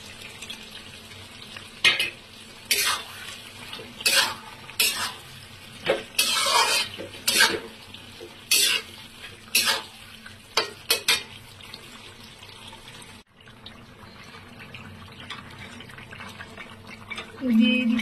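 A shrimp dish fries in a pan and is stirred in bursts of scraping, clattering strokes over a low continuous sizzle, close by, with quieter gaps between stirs.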